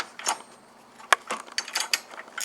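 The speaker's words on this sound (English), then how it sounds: "you'll just need a 10 millimeter wrench or socket wrench or however, but just gonna loosen this" A 10 mm socket wrench ratchets against the battery hold-down bolt of a Tesla Model 3, giving a few close, sharp clicks and metallic scrapes in uneven bursts over a quiet background.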